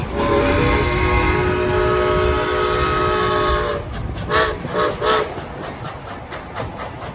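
A train horn blares loudly for several seconds, then fades into the rhythmic clatter of railcars rolling past on the tracks, entering a rail yard in Georgetown, Colorado.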